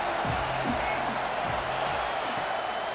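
A football video game stadium crowd cheers for the defense before a big third down, a continuous roaring wash of noise with a low rhythmic chant pulsing beneath it, steady and loud, with no commentary over it.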